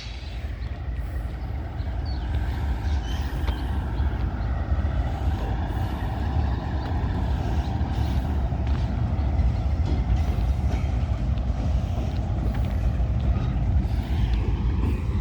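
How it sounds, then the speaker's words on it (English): A CN freight train rolls past close by, a steady loud rumble of wheels and cars with metallic squeals and hiss layered over it, continuous for the whole stretch with no talk. "But a train is a train,"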